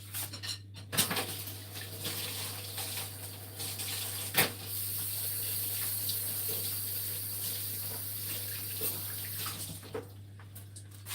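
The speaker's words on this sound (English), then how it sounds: "I need to wipe this to get rid of the grease. And let's get our whisk cleaned too." Water from a kitchen tap runs steadily while a whisk is rinsed and degreased, with a few light metallic clinks and knocks over the continuous splashing stream.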